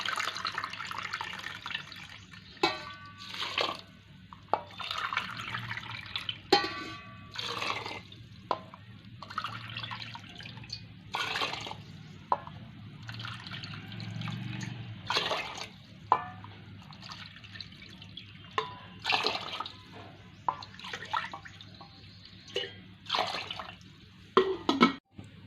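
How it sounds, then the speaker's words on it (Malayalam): Water is poured into a pot of soaked sabudana (tapioca pearls) in a home kitchen. It makes a soft, faint, irregular splashing and trickling for about 25 seconds, with occasional louder drips and no talk. "ഇനി ഇതിലോട്ട് ഒരു 7 കപ്പ് വെള്ളം നമുക്ക് ഒഴിക്കണം."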